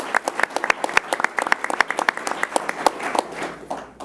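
A crowd at a Buffalo civic event honoring regional development council co-chairs breaks into applause, a dense patter of individual claps that holds steady and full for the whole stretch before thinning slightly at the end.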